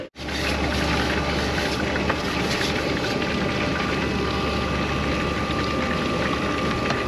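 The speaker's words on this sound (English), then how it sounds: "What I'm saying is the pump's super quiet." Aquastrong pool pump running at 2,000 RPM in a steady, constant drone with a low hum and rushing water-like hiss, close and unbroken throughout.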